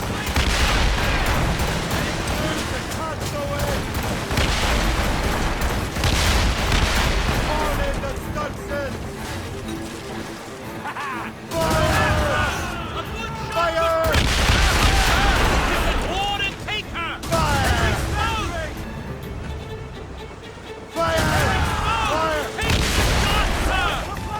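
Cannon and gunfire volleys in Assassin's Creed Rogue, loud repeated booming bursts and crackling shots in waves, with game voices shouting over and between the blasts.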